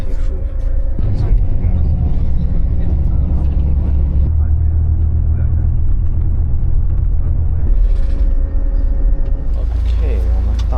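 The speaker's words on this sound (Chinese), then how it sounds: "这是意大利的大巴，看着还挺舒服" Inside an Italian coach bus, a low engine rumble and road noise drone steadily with shifts in pitch as it moves, while a person talks over it nearby.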